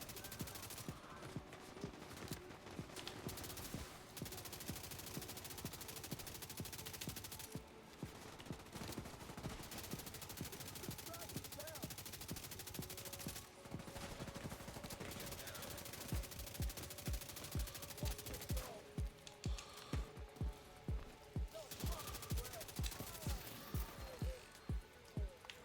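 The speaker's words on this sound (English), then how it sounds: "Somebody that's shooting at us from way down there, and that's really annoying." Enemy gunfire from The Division 2 crackles as rapid bursts of shots, some sharp and some muffled by distance, repeating throughout with brief pauses between volleys.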